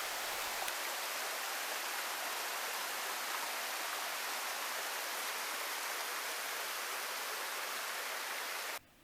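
A mountain stream in Gucheondong Valley on Deogyusan rushes with a steady, broad watery roar, close and constant, cutting off abruptly at the end with no voices.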